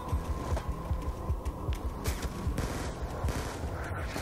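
Rapid gunfire from the video game Black Ops 2 rattles continuously in fast bursts of thumping shots over a low hum, loud and close.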